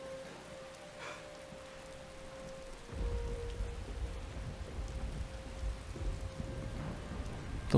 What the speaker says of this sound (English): There's nothing worse than hiking in the rain.